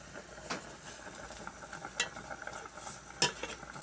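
Native chicken tinola with chili being stirred in a pot, faint scrapes and a few sharp utensil clinks over low background noise, no talking.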